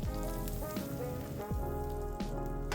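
Butter melting in a pan as the base for gravy gives a steady, dense sizzle with crackling pops, close and continuous throughout under a low tonal hum.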